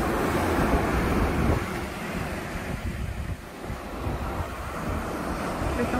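Steady roar of sea surf crashing nearby, loud and continuous, with wind rumbling against the microphone and no talking.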